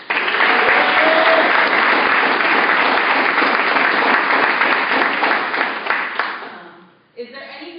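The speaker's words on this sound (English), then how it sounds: "so clap it up for them." A crowd at a team meeting applauds loudly, a thick continuous wash of clapping for about six seconds that tapers off before a voice resumes talking.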